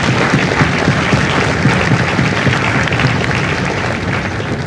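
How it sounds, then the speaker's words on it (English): Sustained applause from a large audience at a Marine Corps recruit graduation ceremony at MCRD San Diego, a steady dense clatter of clapping that holds evenly throughout. "would you join me in a round of applause for the families of God's Company?"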